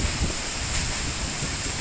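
Super Typhoon Odette's wind roars in a steady, dense broadband rush with gusty buffeting against the microphone, loud and continuous throughout with no voices.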